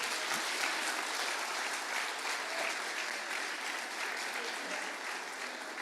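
A church congregation applauds the Lord, a steady, even wash of clapping sustained at moderate volume throughout, with a faint low hum underneath.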